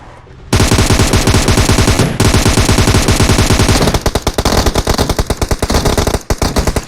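Sustained automatic rifle fire from an M416 in PUBG Mobile, a loud, rapid, relentless stream of close shots that barely pauses over several seconds, with a rougher, more broken burst near the end.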